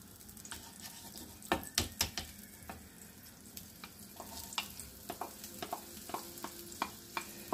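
Onion sizzles in melted butter in a frying pan, a steady soft crackle broken by stirring knocks and scrapes of a utensil against the pan, close and fairly quiet with no talking.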